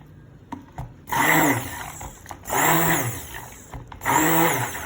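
An immersion blender whirs loudly in three bursts as it mixes cold-process soap paste, each pulse rising and falling in pitch, with short quieter gaps of handling noise between them.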